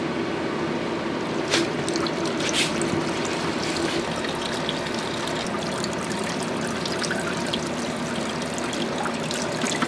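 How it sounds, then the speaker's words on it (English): Solvent sprayed from a pump up into a motorcycle engine, likely a Honda VFR, runs back down into a tray below, a steady close hiss and trickle of liquid with a few sharper spatters and no talk. "I can use this to get up in the engine and spray things back down into this tray"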